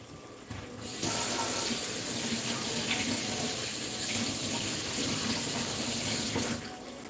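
Basil leaves are rinsed under a running kitchen tap, the water gushing steadily and close for several seconds while the leaves are washed, then the flow cuts off.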